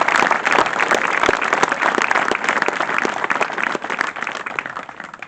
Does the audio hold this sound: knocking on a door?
no